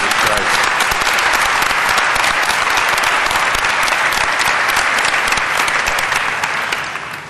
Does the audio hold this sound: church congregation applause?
yes